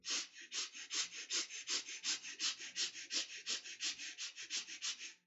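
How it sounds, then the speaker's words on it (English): Rapid, rhythmic breathing during a guided rib-cage breathing exercise, about twenty quick airy breaths in steady succession, close and clear with no talking over them. "Continue breathing into the rib cage."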